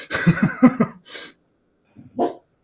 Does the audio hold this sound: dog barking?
yes